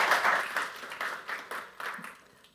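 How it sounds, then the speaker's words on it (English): An audience at a FEDIOL general assembly conference claps for a speaker in a hall, a brief burst of moderately loud applause that gradually thins out. "I would like to give you a round of applause."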